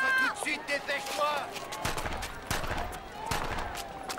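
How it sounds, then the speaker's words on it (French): Gunshots in a French audio drama, several sharp bangs scattered among hurried movement and dialogue, with voices speaking through much of the scene. "j'ai entendu des coups de feu"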